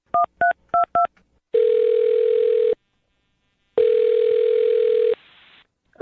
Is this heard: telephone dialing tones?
yes